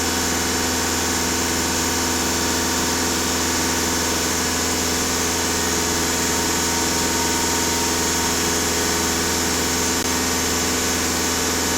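A Volkswagen Passat B6 engine idles steadily and close up, a continuous even hum with a constant mechanical drone and no voices throughout.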